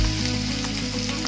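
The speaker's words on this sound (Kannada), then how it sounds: "ಈರುಳ್ಳಿ ಹಾಕ್ಕೊಂಡ್ಮೇಲೆ ಅದನ್ನು ಸ್ವಲ್ಪ ಫ್ರೈ ಮಾಡಬೇಕು" Onions sizzle in hot oil with peanuts and green chillies, a dense steady frying hiss close up, with no talk over it.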